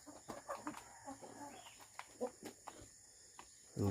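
Chickens at a coop in rural Philippine province life: soft, scattered clucks and small calls in an irregular rhythm, faint and somewhat distant, with a louder thump at the end.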